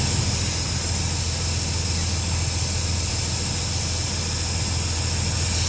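Compressed air hisses out of a leaking truck brake maxi chamber in a loud, continuous, steady rush that stays constant from start to finish.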